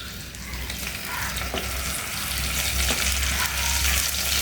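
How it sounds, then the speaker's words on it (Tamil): Cumin seeds, curry leaves and rampe leaves fry in hot oil in a pan for meat curry, a loud, continuous crackling sizzle with occasional stirring scrapes and no voices. "ரம்ப இலையும் கருவேப்பிலையும் பொரிஞ்சு வந்ததுக்கு பிற்பாடு நல்லா பொரிய விட்டுட்டு"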